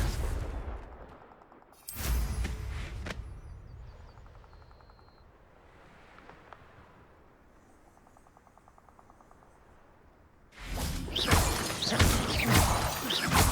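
Confringo spell blasts in the Hogwarts Legacy video game: a loud burst near two seconds that trails off into quieter ambience, then a second, stronger eruption of blasting from about eleven seconds to the end.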